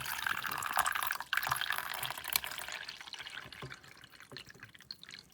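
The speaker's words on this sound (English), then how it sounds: "I'm gonna pour in the water up to the max fill line." Filtered water is poured into the reservoir of a Hamilton Beach coffee machine, a close, continuous splashing trickle with small drips and clinks, fading slightly toward the end.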